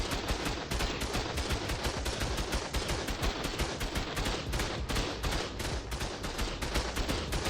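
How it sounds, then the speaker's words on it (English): Two heavy turrets in Ark Ascended fire continuously at a tamed stego, a dense, loud, rapid stream of gunshots with no break, close and dominating. "it is getting gunned down pretty fast. Not a surprise, getting shot by 2 heavy turrets."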